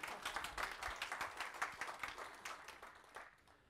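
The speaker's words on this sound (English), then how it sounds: "Can I get a quick applause for scalar type hints?" A brief burst of scattered clapping from a conference audience at a PHP developer talk, dense at first and then thinning out over a few seconds.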